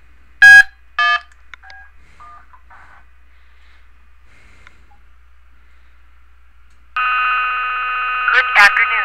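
Touch-tone keys dial B1 on an Echoproducer phone system: two short, loud beeps near the start, a few quieter tones, then a long sustained tone toward the end, with near silence between.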